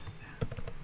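Quick, faint keystrokes on a computer keyboard, a short cluster of soft taps with one sharper click near the middle.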